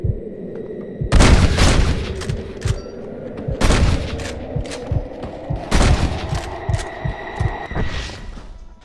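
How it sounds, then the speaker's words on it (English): Gunfire in the Western video game Red Dead Redemption: three loud, booming shots spaced a couple of seconds apart, each ringing out over a low hum and a throbbing, heartbeat-like pulse in the background. "Not a bad shot, Mr. Marston."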